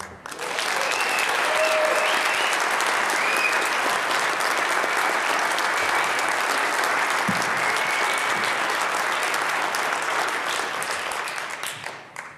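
Sustained, loud applause from an audience at the Buck O'Neil Legacy Awards welcoming Frank White, a dense, steady clapping that swells quickly and holds evenly before tapering off at the end.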